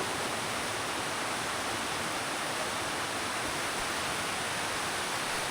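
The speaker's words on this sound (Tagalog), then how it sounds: "grabe, sobrang lakas ng ulan" Heavy rain pours down steadily on a house with an unfinished roof, a loud, unbroken broadband roar with no break or voice throughout.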